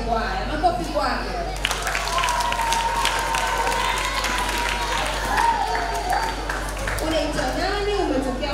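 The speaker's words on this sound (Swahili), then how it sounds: "Makofi kwake." Audience applause and some cheering at a children's and youth singing festival greeting a choir representative from Temeke, steady clapping running for several seconds beneath a voice speaking over a constant low hum.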